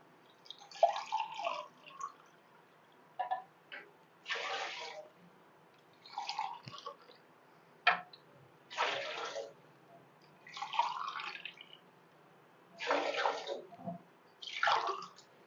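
Water being poured into soaked rice for a vegetable pulao, heard as a series of separate splashing pours, one after another with short pauses, fairly close and alone without talk.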